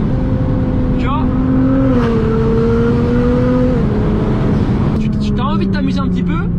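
A Nissan GT-R's engine revs and holds a steady drone as the car slides in a drift, its pitch sagging and rising again, with a voice talking over it throughout.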